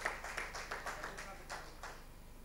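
A church congregation claps hands during a worship service, a brief run of irregular claps that stays fairly soft, with some voices mixed in.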